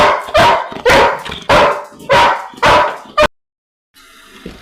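A pet dog barks loudly and close by in a run of five or six sharp, evenly spaced barks, then falls silent, leaving faint household noise.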